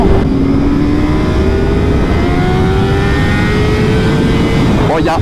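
Honda CBR 600 RR motorcycle engine revving loud and steady, a rising whine holding throughout with a brief sharper burst near the end.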